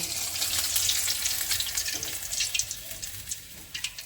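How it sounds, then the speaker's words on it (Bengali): Pieces of chicken crackle and hiss in hot oil, a close, bubbling fry that fades somewhat toward the end, broken by a few brief clatters, with no voices heard. "পেপসি চিকেন ভেজে নেবো"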